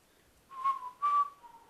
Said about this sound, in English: I hate whistling.